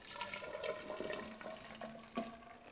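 Rumen fluid poured into a jar in roughly 250 ml measures, a steady splashing, gurgling liquid stream throughout, close and moderately quiet.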